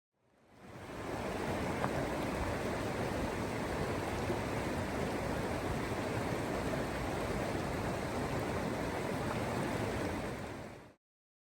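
Steady, full-bodied roar of a waterfall in Iceland off the ring road, constant rushing water filling the scene from start to finish with no voices, fading in at the beginning and cutting off at the end.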